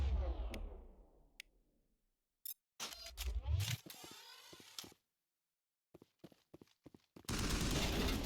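Sniper rifle shots in Mass Effect, a few sharp isolated cracks with quiet gaps between them, then a sudden burst of noise near the end; each report is short and close.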